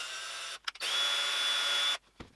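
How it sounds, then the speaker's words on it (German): A handheld power drill whirs in two bursts, a short one then a longer steady run with a high whine, stopping abruptly. "Mit der Handbohrmaschine, das geht schneller"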